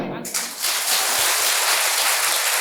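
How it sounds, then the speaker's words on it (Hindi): Audience at a spiritual discourse breaks into applause, a dense sustained burst of clapping that swells and holds steady to the end. "मेरी माताओं बहनों बताओ, ताली क्यों बजाई?"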